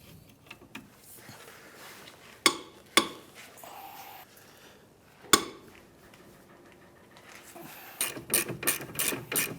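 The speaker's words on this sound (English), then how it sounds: "We have a 17mm socket on a breaker bar." A 17mm socket on a breaker bar loosening the rear caliper bracket bolts on a 2011-2017 Honda Odyssey, giving a few sharp metallic cracks and ratcheting clicks, with a quicker run of clicks near the end.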